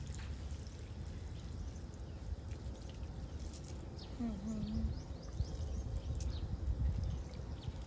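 Water poured into a bamboo tube packed with soaked sticky rice, a soft trickling pour rising partway through, faint and close beside quiet background voices and a bird.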